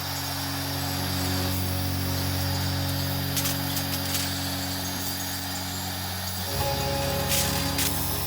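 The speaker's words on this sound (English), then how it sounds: "now I am welding that bracket to the frame" A laser welder joins a 6061 aluminum bracket to a frame in a shop, heard as a loud, steady machine drone and hum with a fume extractor running and a shift in tone near the end.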